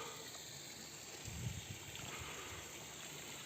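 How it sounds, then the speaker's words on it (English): Faint, steady trickle and gurgle of a small brook flowing through an ancient forest with fallen, rotting trees, continuous and somewhat distant beneath a breezy hiss, with no voices. "brook or stream coming down"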